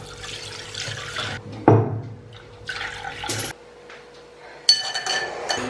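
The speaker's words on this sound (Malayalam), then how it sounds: "ഇനി നമുക്കിത് ഒന്ന് അരിച്ചെടുക്കണം." A cornstarch mixture for an eggless dessert is strained into a vessel, with splashing, pouring liquid and a few sharp clinks of utensils against glass in uneven bursts.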